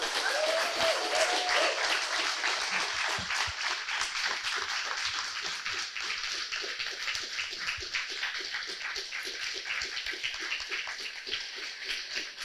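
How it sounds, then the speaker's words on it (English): A large audience at a teen showcase gives students a sustained, even round of applause, a dense wash of clapping at steady volume throughout. "give them a big round of applause"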